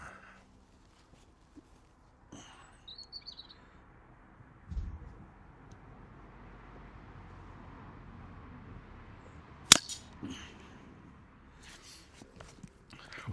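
A single sharp crack from a BRK Ranger covert air rifle fired outdoors at a 40-yard target, standing out as one loud transient against a quiet background with faint rustling.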